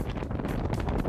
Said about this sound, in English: I know it's really windy out there.